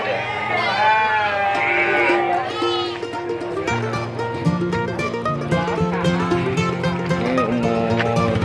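Merino sheep bleat repeatedly at a goat market, wavering calls rising over one another nearby, mixed with people talking and general market bustle.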